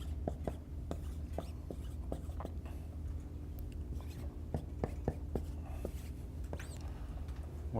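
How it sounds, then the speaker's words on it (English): Pen or marker scratching out math notation by hand on paper or a board, a string of short taps and strokes in an uneven rhythm over a steady low room hum, fairly close but quiet. "I'm going to write my notation this time the way I did it on the homework."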